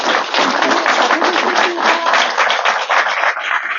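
Loud, sustained applause from a large audience at an ROTC hero monument unveiling ceremony at the Army Student Military School, a dense unbroken wash of clapping lasting several seconds before cutting off.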